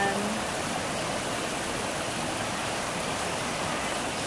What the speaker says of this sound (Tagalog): Ayan ang falls. Diyan ang gagaling ang umaagos na tubig